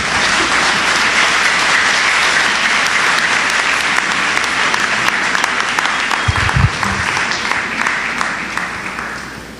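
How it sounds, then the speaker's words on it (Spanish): Strong applause from a church congregation during a Spanish-language service, loud and sustained for several seconds with dense, even clapping that tapers slightly toward the end and a few low thumps midway. "Denle un fuerte aplauso a Jesucristo"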